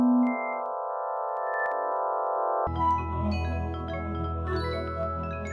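A black hole data sonification produces a sustained electronic drone of stacked pure tones. Partway through it switches abruptly to a denser, shimmering texture with tinkling high notes over a low hum.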